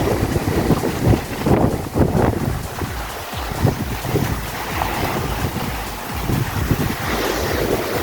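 Gentle sea water along the Masinloc Baywalk, waves washing and lapping close by under heavy gusts of wind buffeting the microphone, a continuous rough rumbling roar.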